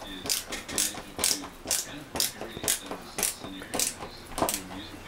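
Screws being driven into a ceiling light mounting plate, giving a series of short, sharp ratcheting clicks that repeat about twice a second at close range, with no talk over them.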